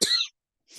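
A single short cough in a quiet indoor setting, a sharp burst lasting about a quarter second, then silence before a faint breathy trailing sound.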